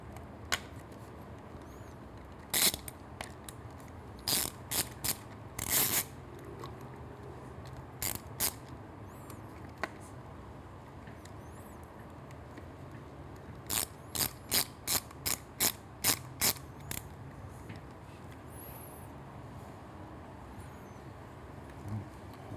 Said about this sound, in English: we get this screw in, again with the T30